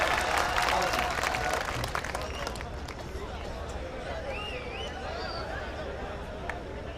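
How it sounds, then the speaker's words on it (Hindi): Loud applause at an All India Mushaira poetry gathering at DNS College, Didoli, Amroha, strongest at the start and fading into a steady crowd murmur with scattered claps and chatter. "मैं चाहता हूं एक बार पुनः जोरदार ताली बजाकर सुंदर को आप माइक पर बुलाएं।"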